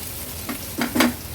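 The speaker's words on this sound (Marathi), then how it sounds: "थोडासा परतून घेतला आहे" Cooked onion being stirred and sautéed in a pan for an Agri Koli–style seafood dish, giving a soft sizzle with two or three louder scraping stir strokes near the end, close by with no talk.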